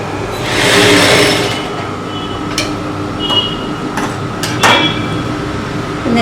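A sewing machine stitching a dart on a blouse, loud and close, with a mechanical whir, brief clunks and a rattling pass partway through, no speech.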